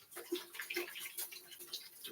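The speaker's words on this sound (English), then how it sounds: "So, let me wash my hands." Water runs from a kitchen tap while hands are washed, a close splashing stream with uneven gurgles and spatters throughout.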